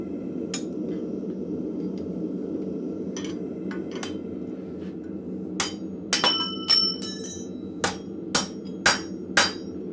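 Ringing metallic hammer blows on hot steel on an anvil while making tongs in a blacksmith shop, sparse at first then a steady run of sharp strikes near the end, with a low background hum.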